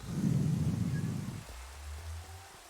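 Steady Minecraft rain rushes for over a second, then drops away to a quieter patter over a low background hum.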